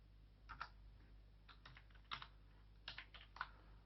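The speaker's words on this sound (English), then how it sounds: "So this is how, by typing on the keyboard, we are" Quick, light clicks of typing on a computer keyboard while entering spreadsheet data come in short irregular bursts, faint and close against a low steady hum, with no voices.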